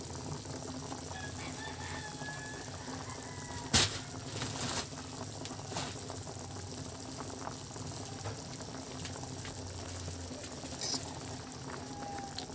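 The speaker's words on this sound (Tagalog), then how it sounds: "Ayan, at kumukulo na." A pot of chicken nilaga soup with softening vegetables boils steadily, a faint, continuous bubbling simmer with occasional small clinks, heard alone at low volume.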